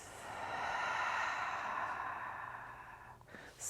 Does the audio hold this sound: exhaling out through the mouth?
yes